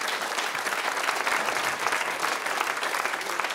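Audience applause at a Swiss comedy talent stage show, dense steady clapping from a crowd throughout, loud and continuous with no talk over it.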